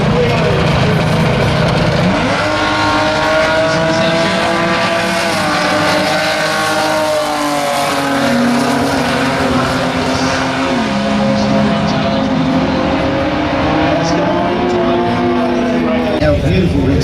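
Drag racing cars at a raceway, a nitrous-fed Valiant chased by a turbocharged six-cylinder Ford XR6, roar in a loud, sustained engine drone with rising and falling pitch, under continuous commentary.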